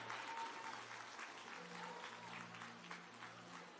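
A crowd applauds steadily for a scholarship award recipient at the closing ceremony of a science buskers festival, with dense, continuous clapping that sounds somewhat distant and holds an even level throughout.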